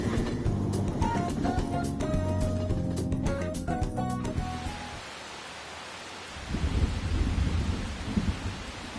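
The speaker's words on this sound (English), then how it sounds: "Rain, huh?" Rain and thunder in Persona 5 Royal roll under game music, which cuts out midway, leaving a steady hiss of rainfall and a low rumbling swell of thunder near the end.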